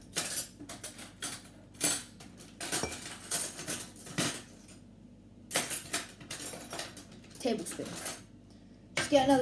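A metal tablespoon scrapes and clinks against a baking bowl in a series of uneven, close-up bursts of scraping and sharp clinks, with brief pauses between them and someone talking nearby.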